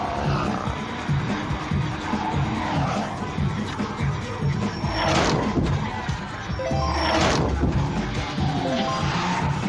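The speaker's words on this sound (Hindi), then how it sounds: "इसमें गाड़ियों की आवाज़ ऊंची होती है काफ़ी" Cars in a video game for blind players: engine roars, crashes and skids play loudly and continuously, with bursts of impact noise over a busy layered mix.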